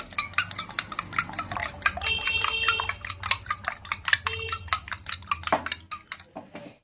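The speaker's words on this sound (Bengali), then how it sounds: "এবার ভালো করে ফাটিয়ে নিচ্ছি" An egg being beaten with pepper, salt and green chilli, a fast steady run of close metallic clicks as a utensil whisks against a bowl, with a brief pause near the end.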